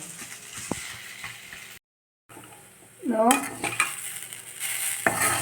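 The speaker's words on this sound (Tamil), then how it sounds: "இன்னொரு ஃபைவ் மினிட்ஸ் வதக்கலாம் இதை" Lentil and fenugreek leaf usili sautéing in oil, with a spoon stirring and scraping the pan over a low sizzle, briefly cutting out before louder clattering and scraping resume.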